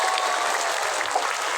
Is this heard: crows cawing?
no